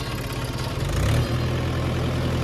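A tractor engine runs steadily while ploughing a field, a loud, close, low-pitched rumble that swells briefly before settling back into a constant drone.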